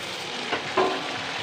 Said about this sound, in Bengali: ছেড়ে দিতে হবে তেলে